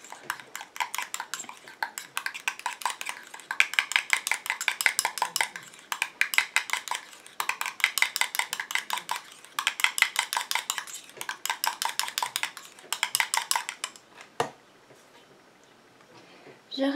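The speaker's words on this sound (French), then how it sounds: "Je mélange." A spoon scrapes and clinks against a bowl while hibiscus night cream is stirred, in rapid rhythmic bursts separated by short pauses, close and fairly loud, ending with a single louder knock.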